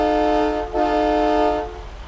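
A truck horn in American Truck Simulator blares a loud, deep, train-like chord, with one brief dip and then a sustained blast before it trails off.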